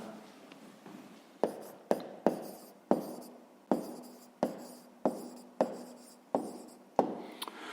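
A pen writes a math solution in a school notebook, producing close, scratchy strokes in about a dozen quick bursts with short pauses between them and no talking.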